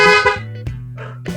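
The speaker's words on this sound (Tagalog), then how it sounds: "Ito, yung PIA dual horn natin na shell type" A PIA dual shell-type car horn fitted to a 2006 Honda City VTEC, sounding loud and close in two short blasts, with a bright steady tone in each.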